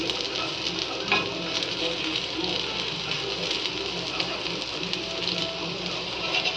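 Raw banana (plantain) slices frying in a pan, giving a steady, dense crackling sizzle with fine patter throughout, moderately loud and with no talking.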